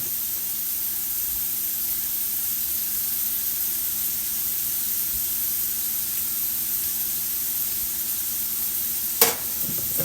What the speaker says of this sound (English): So now I'm going to saute these up and get them brown.